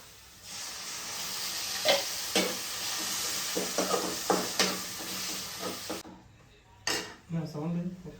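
Garlic and tomato fry in a pan for a first-time tomato gravy, with a steady sizzle and repeated clinks and scrapes of a spoon stirring against the metal. A voice speaks briefly near the end.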